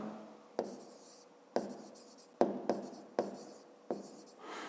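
Marker or chalk writing on a classroom board during a fifth-grade maths exercise, a series of about seven short scratchy strokes, each with a sharp onset, spaced unevenly, close and fairly quiet, with no speech.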